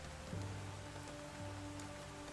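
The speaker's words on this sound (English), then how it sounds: "So the rain has started to come down" Steady rain falls in a soft, continuous patter, with a faint low hum running underneath and no voices.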